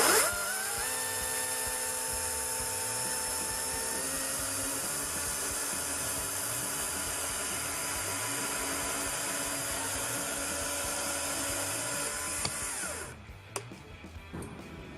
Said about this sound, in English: Let the chainsaw pull you towards the wood and apply slight downwards pressure.